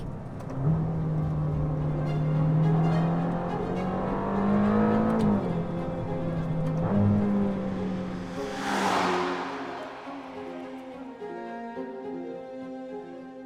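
The engine of a Ferrari Amalfi revs up and down through paddle-shift gear changes, giving a steady, loud engine tone that climbs and drops with each shift, followed by a rushing sweep near the end.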